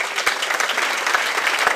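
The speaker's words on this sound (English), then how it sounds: "Give it up for Mr. Mike Burton" Audience at a comedy show applauds a comedian, a dense steady burst of clapping from a crowd nearby.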